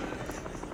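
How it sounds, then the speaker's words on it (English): A helicopter in the video game Dead Rising makes a brief, steady rotor thrum that fills the short moment without pause. "That's a helicopter."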